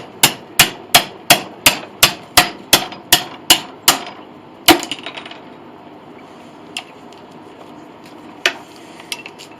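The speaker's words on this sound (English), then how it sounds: "just hammering the dowels out" A steady series of about a dozen sharp hammer blows knocking wooden dowels out of a Mason & Hamlin piano lyre, evenly spaced, then a few scattered knocks and taps with quiet gaps between.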